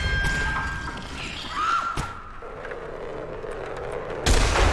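A gunshot fires in the indie horror game Crying Pony, a sharp loud crack near the end after a stretch of low game ambience, with a faint thud midway.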